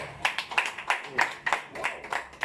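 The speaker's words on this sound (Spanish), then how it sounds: "Aplausos al grupo." A small group claps for a few seconds at a church home-fellowship workshop, irregular individual claps close to the mic, and voices may be mixed in with them.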